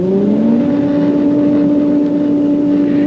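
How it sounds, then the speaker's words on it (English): A wind tunnel motor starts up and spins to speed, its loud steady hum climbing in pitch over a continuous rush of moving air, with no voices. "I'm going to start the motor now."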